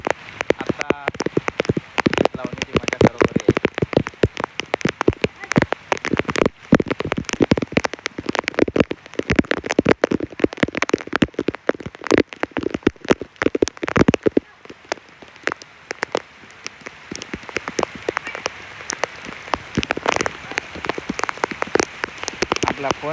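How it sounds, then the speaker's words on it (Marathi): Steady rain pattering on a surface, dense and continuous with many close drops, briefly lighter partway through before picking up again. "पाऊस आला भारी वाटतं"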